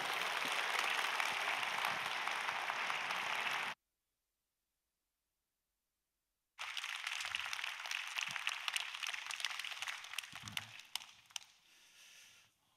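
Korean church congregation applauding to welcome a pastor to the pulpit at a Friday worship service, a dense burst of clapping that breaks into a gap of silence, then resumes more scattered and uneven before fading out.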